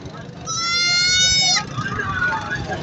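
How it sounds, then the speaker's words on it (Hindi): A nanny goat with three kids bleats once, a loud close wavering cry lasting about a second, amid the chatter and background noise of a livestock market in Karachi, Pakistan. "ये 3 बच्चों के साथ बकरी है"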